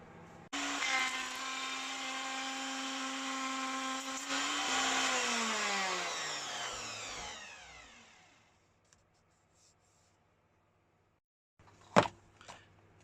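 A router fitted with an up/down shear bit cuts a splice in a laminated guitar neck, a loud high whine under a load for a few seconds, then the motor spins down and falls silent, followed by a sharp knock.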